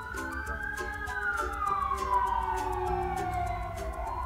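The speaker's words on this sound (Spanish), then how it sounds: "ambulancia." An ambulance siren wails in a long, sliding tone that rises and falls as the vehicle passes, fairly loud and steady throughout, with no one speaking.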